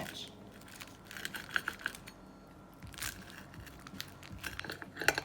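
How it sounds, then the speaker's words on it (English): Crisp, close crunching as someone bites into an air-fried, Taco Bell-style Mexican pizza, with a few sharp crackling bites over quiet room noise. "listen to that crunch."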